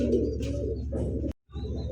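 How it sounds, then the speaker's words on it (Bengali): Large Pakistani pigeon cooing in soft repeated low burbles, close and fairly loud, with a brief break of silence before the cooing resumes; no talk. "খুবই সুন্দর পাকিস্তানি বড় পায়রা কবুতর।"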